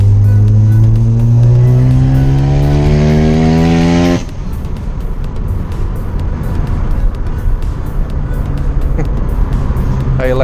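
A Mazda RX-7 FD fitted with a four-rotor rotary engine revs up loudly through the gears, its rising harmonic wail cutting off abruptly into a rough, choppy brap at lower revs, close and dominant.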